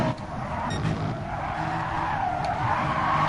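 A BMW M4 in a racing video game skids hard and crashes, a steady loud tire screech and engine roar running continuously for a few seconds.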